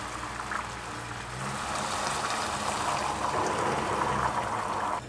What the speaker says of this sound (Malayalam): ഇനി ഞാനിതിലേക്ക് നമ്മുടെ 1 കപ്പ് വെള്ളം തിളപ്പിച്ച് ഒഴിച്ച് കൊടുക്കുകയാണ്